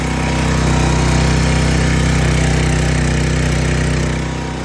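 A Predator 212cc small gasoline engine runs steadily at a constant idle, a loud continuous drone with no voices.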